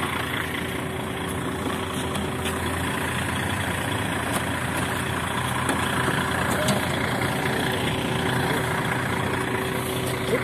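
A long three-axle bus idles nearby on a Russian road, its engine giving a steady low rumble with a faint higher hum, and a few brief clicks and knocks over it.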